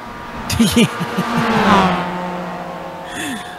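Mazda MX-5 race cars running side by side at Bathurst, engines revving and shifting with rising and falling pitch, loud and close, while a commentator talks over the racing.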